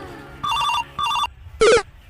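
A mobile phone ringtone plays close by as two short repeated electronic bursts, followed by a brighter and higher chime, in an otherwise quiet room.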